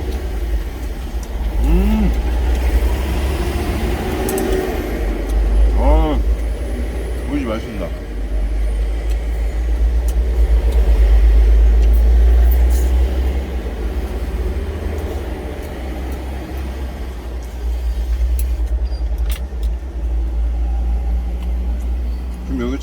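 Cars and trucks pass back and forth on a roadside where a truck is parked, giving a steady loud low rumble of traffic with a voice talking over it throughout.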